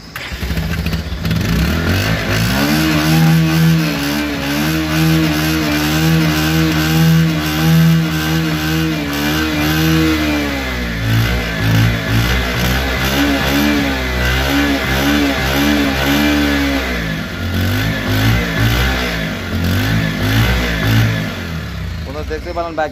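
A used Bajaj Pulsar 150cc motorcycle with about 3,750 km on it idles close by, then revs up and down several times in long, smooth swells before settling back to a steady idle.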